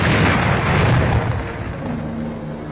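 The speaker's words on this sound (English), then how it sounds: "First, an ordinary bomb exploding on contact." An ordinary bomb exploding on contact in a wartime film sound effect, a loud, close, rumbling blast that rolls on and slowly fades over a few seconds.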